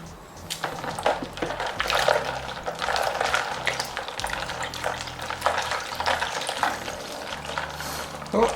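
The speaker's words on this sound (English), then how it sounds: "I'm going to change this water over" Water is changed over a batch of homemade butter, with splashing, sloshing and dripping in a container alongside occasional knocks and handling noises, continuous and close, without talking.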